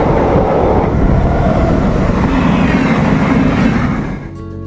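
The Konark Express rushes past on the neighbouring track during heavy rain, a loud, continuous broadband roar that holds steady before easing off near the end.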